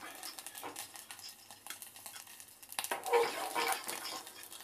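Eggs frying in oil in a kadai, with a steady crackling sizzle and intermittent scraping stirs of a utensil against the pan, close and fairly loud throughout.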